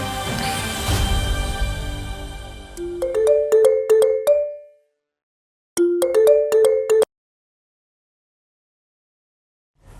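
Phone ringtone signalling a friend's call: a bright melodic tone pattern plays twice in short repeated bursts, separated by silence, following a brief noisy lead-in.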